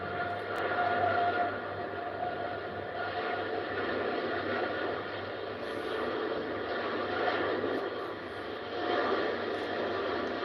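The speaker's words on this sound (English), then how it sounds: "Japan Airways JL42. This one's going to fly all the way to Tokyo. Yes. 787 Dreamliner." Japan Airlines Boeing 787 Dreamliner departing Heathrow for Tokyo, a steady distant jet engine roar that swells gently and holds for about ten seconds, with no voices.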